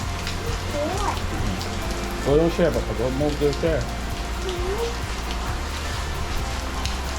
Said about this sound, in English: Still raining crazy.